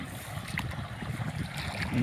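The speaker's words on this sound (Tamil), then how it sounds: "தண்ணி பாஞ்சிக்குது தண்ணி வந்துருச்சு" Irrigation water runs into a sorghum field on a farm, making a soft, continuous rushing flow with faint gurgles. It stays steady and fairly quiet, with a slight swell toward the end.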